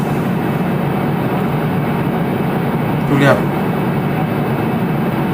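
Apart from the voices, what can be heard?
factory machinery running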